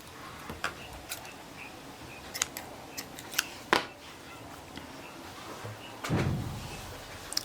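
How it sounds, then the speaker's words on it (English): Scissors snipping crochet yarn at the end of a row on a pineapple-pattern top, a few faint short clicks and one sharper cut among light handling sounds, close and quiet without talk. "just chain 1 and cut off your yarn"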